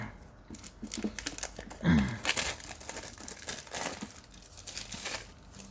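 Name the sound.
opening sealed trading card booster packaging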